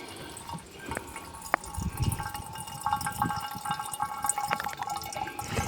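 Water trickles and drips through a small backpacking water filter on a first backpacking trip, a steady light flow under occasional soft handling clicks.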